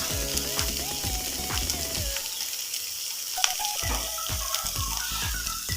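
Eggs for a Thai coconut and shrimp-paste egg stir-fry sizzle in a pan over medium heat while being stirred, with a steady frying hiss and repeated scraping strokes of a utensil, and music plays underneath.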